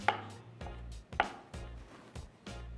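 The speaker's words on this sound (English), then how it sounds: "the best way to do it is cut it really small so you don't even notice" Mushrooms chopped small with a knife on a board while cooking ramen, about five firm, evenly spaced thuds, each followed by a short scrape, close and clear.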